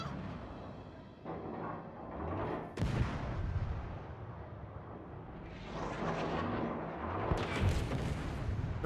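Naval gunfire in World of Warships: heavy booming salvos over constant rumbling battle noise, with a big blast near three seconds and more rolling fire later, loud and close throughout.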